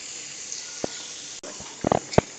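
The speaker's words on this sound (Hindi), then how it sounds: "देखिए हमने तेल में लहसुन डाल दिया था, अब इसको हम 5 मिनट भूनेंगे" Garlic ginger paste frying in hot oil in a karahi pan for Afghani beef karahi, a steady soft hiss with a few sharper crackles and spits near the end.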